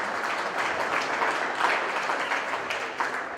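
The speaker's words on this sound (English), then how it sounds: "Let's give them one more round of applause." A crowd applauds at a dairy cow show, dense sustained clapping filling the arena evenly, fairly loud with no talk over it.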